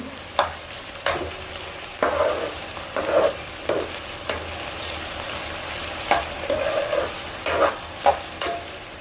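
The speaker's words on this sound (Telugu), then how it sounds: "చూడండి బాగా వేగుతూ ఉన్నాయి." Onions, tomatoes and green chillies fry in a pan for a Sunday chicken curry, a steady close sizzle broken by repeated stirring scrapes throughout, with no talk.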